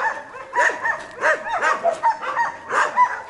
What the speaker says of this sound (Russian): Собаки прибежали.